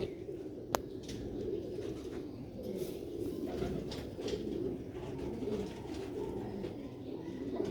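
Record-holding, original-breed pigeons coo in soft, low repeated calls over steady background noise, with one sharp click near the start.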